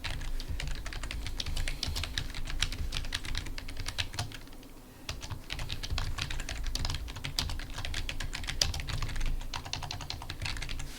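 Steady typing on a computer keyboard while writing a document in Microsoft Word, rapid irregular key clicks continuing for several seconds, close and clear with no talking.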